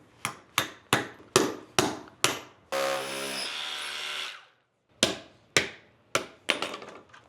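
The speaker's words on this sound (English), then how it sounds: "Hammer it in." Sharp hammer blows strike in quick succession while framing, hammering a bolt in with washer and nut, interrupted by a brief whirring tool burst, then the rhythmic pounding resumes.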